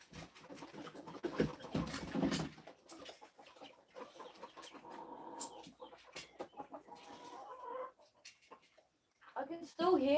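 Chickens inside a house cluck and croon in soft, scattered bursts under a person talking, with a louder squawk near the end.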